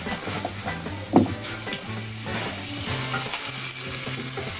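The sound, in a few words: food sizzling as it cooks on the heat for pho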